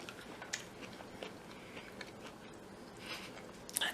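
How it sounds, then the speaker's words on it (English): A person chews a low fat caramel apple, giving faint, quiet crunching and biting sounds in a soft, irregular rhythm close to the microphone, with sharper crunches near the end. "I'm chewing"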